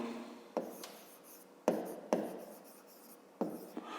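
Pen or pencil writing a 5th-grade maths expression on paper, a few short scratchy strokes with brief taps, close and quiet, no talking.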